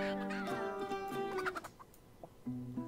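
A chicken in the video game Pixel Piracy clucks and gobbles in short warbling bursts, a few calls close together then a pause and another cluck, quiet against light game background.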